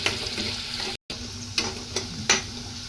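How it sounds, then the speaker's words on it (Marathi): Chopped onion sautéing in a pan for a cashew curry, a steady close sizzle with a few scraping stirs of the spoon and one very brief dropout near the middle. "कांदा पण परतून घ्यायचा एक मिनिटवर"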